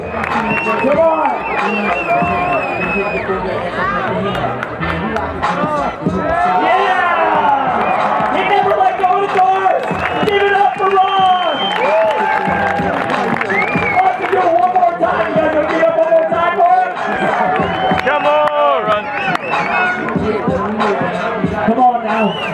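A crowd cheers and shouts at a BMX worlds oldschool show, with loud overlapping voices, whoops and clapping rising and falling, and people talking close by.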